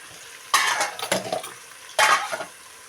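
Onions and tomatoes go into a hot pan with curry leaves in a home kitchen. Two bursts of sizzling follow, each with stirring and utensils clattering against the pan, and a short quieter gap separates them.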